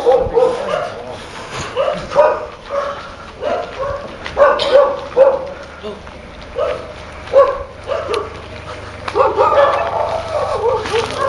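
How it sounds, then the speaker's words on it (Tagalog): Dogs bark repeatedly at night on a street in Baguio at a moderate distance, irregular volleys of barks and yips continuing throughout, with some faint background noise. "Mga aso na naman."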